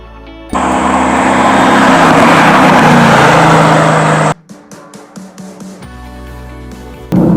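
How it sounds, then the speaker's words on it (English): A Mercedes AMG GT S engine roars loudly under hard acceleration, then cuts to a rapid series of crackling downshift blips before surging again at the end. "Man, the downshift, oh God, the acceleration on this car."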